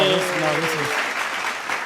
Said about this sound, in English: That's the clap you get when you have a really good TED Talk.